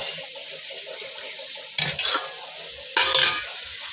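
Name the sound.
potatoes frying in a pan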